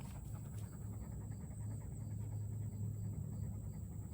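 A puppy pants quickly and steadily up close, a soft rhythmic huffing that keeps going with no talking over it.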